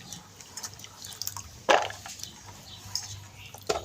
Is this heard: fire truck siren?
no